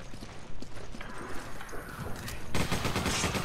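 In Resident Evil 5, enemy gunfire crackles as rapid, dense bursts that grow louder and steadier toward the end, over a busy, clattering background with no talking.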